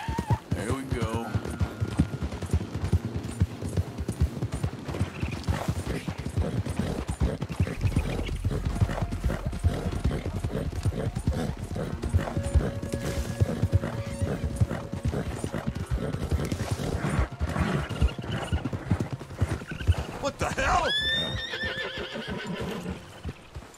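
Horse in Red Dead Redemption 2 galloping with steady clip-clop hoofbeats throughout, loud and close, with a whinny near the end and game sounds mixed in.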